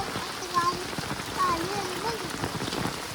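Steady rain falls during the Ganpati festival in a Konkan village, a dense even patter on surfaces throughout, with someone talking over it.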